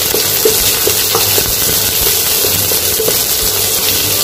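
One small onion tossed into a hot pan for street-style egg fried noodles, sizzling and frying steadily with a continuous hiss and occasional light clinks of stirring, close and fairly loud.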